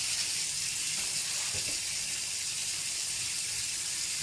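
Cold water runs steadily from a tap into a kitchen basin, filling a cold-water bath to cool a bowl, a constant close hiss with faint knocks partway through.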